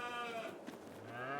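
Cattle on a farm in the Farming Simulator video game, a single drawn-out low bleat or moo heard fairly close and alone, with no talking over it.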